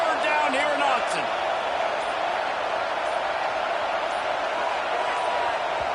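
Loud, steady roar of a packed football crowd at Autzen Stadium in Oregon on third down, a dense wall of noise with a few sharper bangs and shouts near the start.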